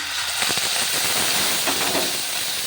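Ginger paste hits hot oil already fried with cumin seeds while a bottle gourd curry is being made, giving a loud, continuous sizzle and hiss with small crackling bursts throughout.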